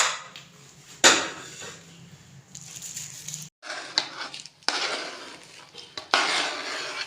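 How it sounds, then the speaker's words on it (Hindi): Two eggs go into a bowl of tomato and onion, heard as close, sharp clinks and taps against the bowl, with brief gaps between bursts of knocking. "इसके अंदर हम 2 अंडे डालेंगे।"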